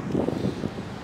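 Wind blows sand across an open beach, a short rough gusty rumble buffeting close to the microphone with no speech.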